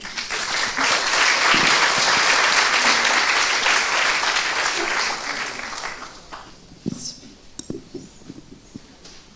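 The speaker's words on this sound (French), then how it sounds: "vous pouvez les applaudir." An audience at a public talk on family life applauds the speakers, loud and dense for about five seconds, then thinning into scattered claps and room noise.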